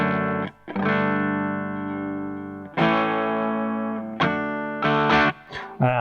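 An electric guitar plays sustained, ringing chords through the clean tone of a Blackstar HT Club 40 amp, several strums in sequence with no talking.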